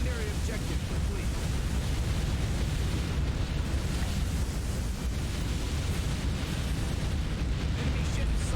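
An enemy warship explodes and sinks in a naval combat game, heard as a continuous dense roar of blast and rumbling debris noise that stays loud and steady throughout, with no clear separate impacts.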